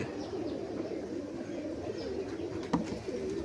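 Big-size brown-necked pigeons coo steadily and close by, a continuous low throaty murmur with overlapping calls and no talk.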